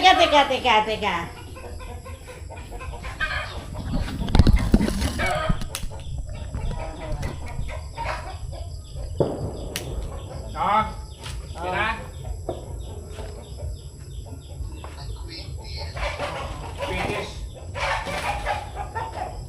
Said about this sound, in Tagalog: Laki nakabahan yung mga manok.